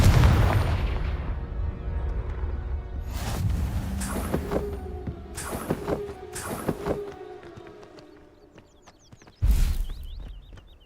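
A Confringo blast spell goes off in Hogwarts Legacy with a deep booming explosion, followed by several sharp crackling impacts and rumbles, then a final loud burst near the end.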